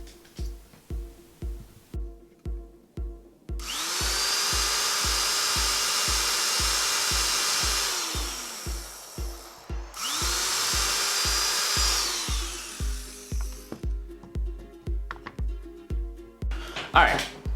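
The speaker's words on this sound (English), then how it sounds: "we're gonna drill the holes" A power drill bores into wood in two long bursts of several seconds each, separated by a pause, with rhythmic thumping underneath throughout.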